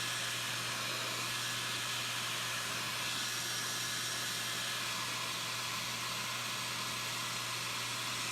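Heat tool blowing on alcohol ink on a tumbler, a steady close hiss with a low hum that runs unbroken throughout.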